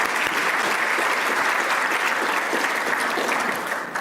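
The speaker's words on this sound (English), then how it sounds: "Can you please give a round of applause as well?" Sustained applause from an audience at a community iftar evening, a dense steady wash of many hands clapping close and loud for the full length, with no talk over it.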